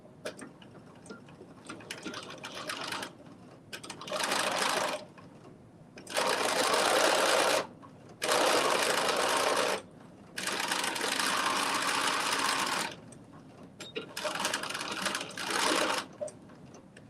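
A sewing machine stitches fabric lining in several bursts of rapid, even mechanical whirring, each run lasting a second or two with quiet pauses between, close and clear.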